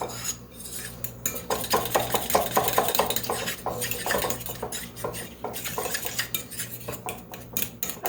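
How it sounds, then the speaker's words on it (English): A utensil whisks and scrapes quickly around a bowl, blending grated Parmesan into beaten eggs for spaghetti pie. Rapid, close, continuous metallic clinking and stirring fills the whole stretch, with no voices. "I'm just going to mix that in with my 2 eggs that I beat in this bowl."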